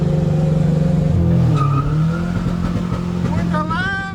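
A 359 bhp VW Caddy with a PD130 engine and six-speed gearbox launches in second gear, its loud engine note dropping as the revs fall, followed by a brief tire squeal and rising pitch near the end, heard close.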